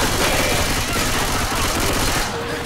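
Steady rapid gunfire rattles throughout a Left 4 Dead 2 versus match on Xbox 360, loud and continuous, fading slightly at the very end.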